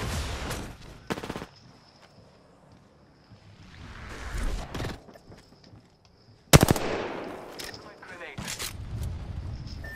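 Video game gunfire in loud close bursts, with a sharp volley at the middle and rattling automatic fire, while voices talk over the shooting.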